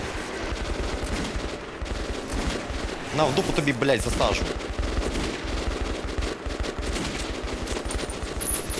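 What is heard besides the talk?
gunfire in a video game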